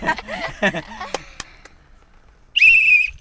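A plastic whistle blown hard by someone treading water in a pool, one shrill sustained blast of about half a second coming at the end, after a stretch of people talking.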